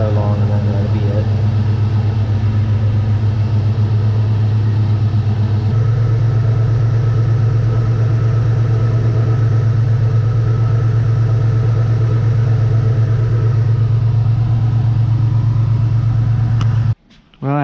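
A 1971 Pontiac Ventura engine idles while warming up, a steady low rumble that holds throughout at close range and cuts off abruptly near the end.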